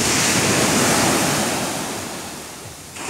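Java Sea surf at a fishing spot near the North Jakarta power plant by Ancol, a loud continuous roar of waves mixed with heavy wind buffeting the microphone.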